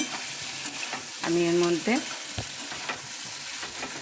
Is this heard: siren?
no